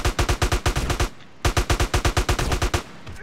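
Gunfire in the Russian-setting video game GTA Criminal Russia rattles out in two rapid automatic bursts of evenly spaced, punchy shots, loud and close, separated by a brief pause.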